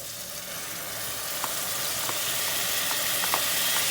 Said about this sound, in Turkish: Şimdi etini ekliyorum.